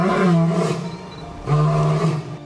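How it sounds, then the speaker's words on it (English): A lion lets out two deep, loud, rumbling roars close by, the second following after a short pause. "The lion has the loudest roar of all the big cats."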